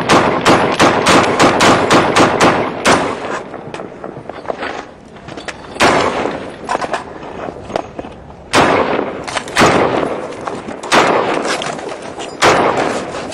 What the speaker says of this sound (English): Yeah, they're shooting back.